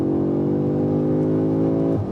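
A 2023 Audi S3 with all-wheel drive accelerates hard, its engine note rising steadily in pitch, loud and close from inside the car, then easing off at the end.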